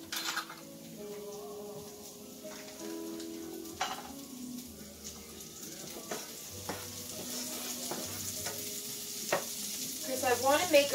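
A tablespoon of butter melts and sizzles in a pan as a roux is started for meatball stew, a steady soft frying hiss with scattered stirring scrapes and light utensil clinks close by.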